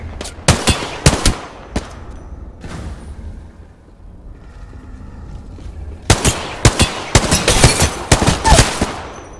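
Bursts of automatic gunfire and single loud shots in a first-person shooter firefight, clustered at the start and again in a dense rapid volley near the end, with a quieter lull between.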